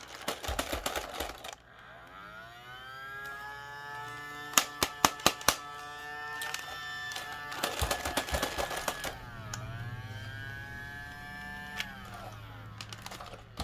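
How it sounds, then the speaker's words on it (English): A Casdon Dyson V7 toy vacuum's small motor whines with a rising, sustained electric tone that wavers and sags as it starts going out, broken by sharp plastic clicks and taps, no speech. "The motor just died. Not died, but started it going out."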